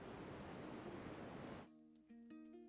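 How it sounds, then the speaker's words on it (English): White noise from a soundscape generator, a dense, steady broadband hiss that fills the first 1.6 seconds at even loudness, then cuts off abruptly into quieter tonal sounds. "White noise."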